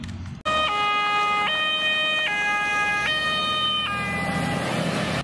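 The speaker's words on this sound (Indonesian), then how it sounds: "ternyata mobil pemadam kebakaran pembawa tangga" Toy ladder fire truck siren, loud and close: an electronic wail that alternates between two pitches in a steady repeating cycle, heard alone after a brief opening rustle.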